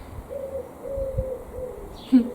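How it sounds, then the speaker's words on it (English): Wood pigeon cooing in a cottage garden near a seed sowing table, a soft low repeated coo that drifts in and out behind faint outdoor ambience, with a louder closer call near the end. "Thank you, wood pigeon."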